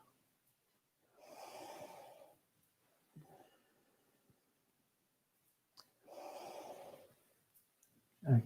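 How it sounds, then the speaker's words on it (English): Slow, deliberate breaths during a chi kung meditation exercise, two long audible inhales or exhales several seconds apart, soft and close with near-silence between. "breathing in, breathing out."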